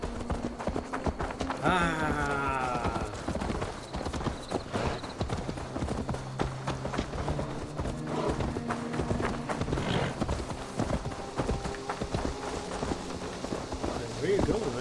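Galloping horse hooves clip-clop steadily in Assassin's Creed Valhalla, running through most of the stretch amid busy game effects, with a brief vocal exclamation and some talk over it.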